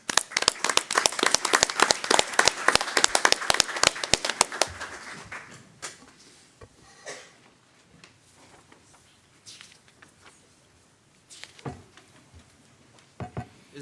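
Applause from a small audience at a city council meeting, a few seconds of brisk, close clapping that tapers off, followed by quieter scattered taps and room noise.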